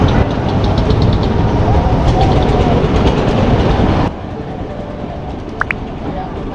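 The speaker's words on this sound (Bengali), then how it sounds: "এই যে মাঝি ভাই নৌকা এখন বেরাবে।" A motor boat leaves the ghat at Bholaganj Sada Pathor in Sylhet. A loud, steady engine drone runs close by, then drops abruptly to a quieter rumble partway through, with a couple of brief higher tones near the end.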